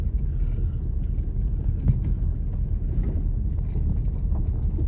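An RV rolls into a desert RV park, its engine and road noise a steady low rumble heard from inside the cab, with small bumps and rattles and no talking.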